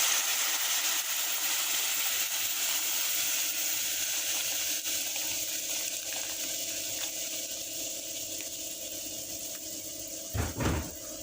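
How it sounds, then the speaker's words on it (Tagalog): Water pours steadily into a pot of vegetable soup with seasoning cubes and black pepper, a continuous hiss that fades slightly before a short knock near the end. "We add the water"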